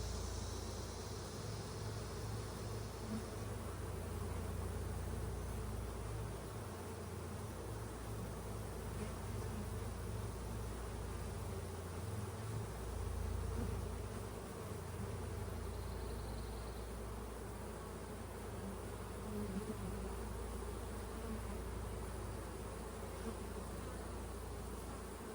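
Honeybees hum in a steady, dense drone from an open hive close by, a continuous buzz that holds for the whole stretch with slight swells in loudness and no voices.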